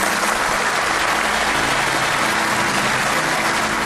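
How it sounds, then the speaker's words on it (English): A studio audience applauds warmly at a magic show, a dense, steady wash of clapping sustained throughout with no voices over it. "Round of applause."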